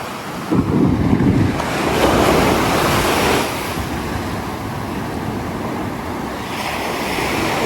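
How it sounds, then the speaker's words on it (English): Sea waves crash on the shore in a steady, loud roar with strong wind buffeting the microphone, one surge swelling early and then a continuous wash, no voices. "the waves are magnificent here"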